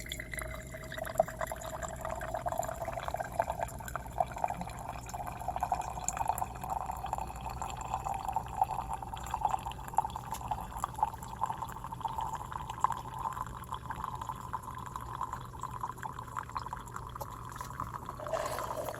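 Brewed coffee trickles and drips steadily from a K-cup coffee maker into a cup, a faint continuous liquid stream under a low machine hum with no talking.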